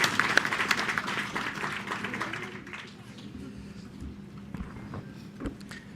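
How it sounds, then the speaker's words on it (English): Audience applause at a conference session, a burst of clapping that is loudest at the start, then thins and fades into a quieter room with scattered claps. "Let's give him a round of applause."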